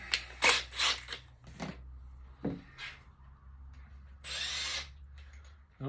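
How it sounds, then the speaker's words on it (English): A power drill with a 35mm Forstner bit boring through MDF, heard in short bursts of whirring and cutting with pauses and a mechanical creak between, fairly close and without talk. "I'm going to drill through the MDF first with a 35mm Forstner bit"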